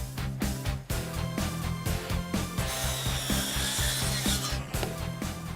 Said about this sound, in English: I'm going to start cutting these posts down to the actual height that they're going to be at.